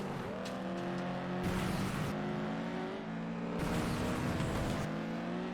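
A car crashes and rolls over in the racing video game FlatOut 2: a steady engine drone with bursts of scraping, tumbling impact noise and tire squeal, loud and continuous with no talk.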